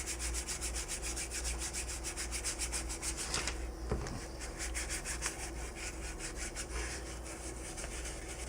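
Steady, continuous scraping of sandpaper on wood, close and loud, with rhythmic back-and-forth strokes and a brief pause near the middle.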